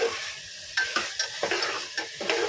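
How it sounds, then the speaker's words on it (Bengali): Spices sautéed in hot ghee with salt, a loud close sizzle punctuated by several quick stirring scrapes in the pan. "ভালো করে একটু কষিয়ে নিচ্ছি"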